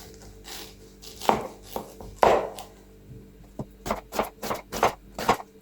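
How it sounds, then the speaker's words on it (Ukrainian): A knife chops onions on a board in uneven bursts, then settles into a quicker run of crisp, close taps as the onions are diced into small cubes. "Чотири великі цибулі нарізаю дрібненьким кубиком."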